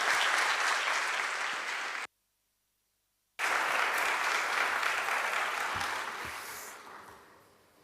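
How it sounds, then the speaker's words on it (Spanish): A church seminar audience applauds to welcome a pastor, broad steady clapping broken by a brief dropout before resuming and gradually fading out. "Vamos a recibir al pastor Josué Beck con grandes aplausos."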